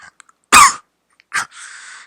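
A single harsh, close cough, followed by a shorter throat-clearing sound and a breathy exhale, alone in near silence.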